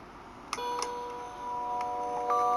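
A clock sounds soft chimes: two light struck tones early, then sustained ringing notes that linger and swell slightly, quiet and close in a still room.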